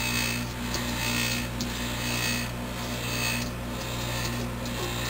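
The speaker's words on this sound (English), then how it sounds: "I'm going to use a spatula." Spatula scraping the last pulp in a Norwalk juicer: a steady, close rasping scrape with a few stronger strokes, heard over a constant motor hum with no talking.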